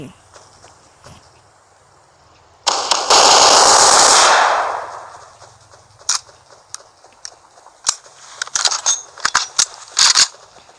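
Gunfire in the video game Vast Survival: a loud, dense burst of automatic shots lasting about two seconds, followed by scattered sharp clicks and short impacts.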